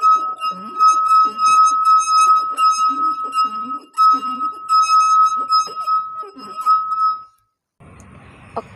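A glass half filled with water is struck repeatedly, ringing out in bright sustained clear tones with steady overtones; each tap rings on and overlaps the next, lasting several seconds before a brief quieter rustle at the end.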